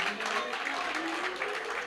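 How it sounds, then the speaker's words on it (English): Applause from the audience at a national debate championship final, a continuous wash of clapping that stays steady and moderately loud throughout the short moment. "A round of applause"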